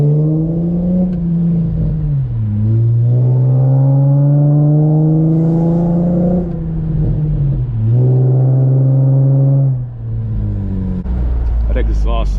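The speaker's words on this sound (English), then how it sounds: "That exhaust sounds amazing" An Acura TL with an XLR8 exhaust revs up and down close by, its deep exhaust note rising and falling in long sweeps, loud and throaty.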